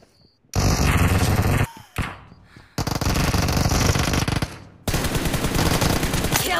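Gunfire in a gun game video game, loud bursts of rapid automatic shots in several stretches separated by brief gaps, with a single shot in between.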